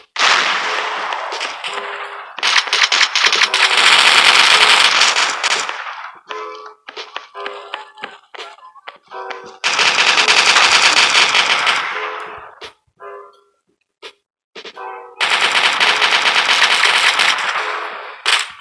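Rapid automatic fire from a P99 pistol in the mobile shooter game Coalition, loud and close, coming in three sustained bursts of several seconds each, separated by sparse single clicks and clanks.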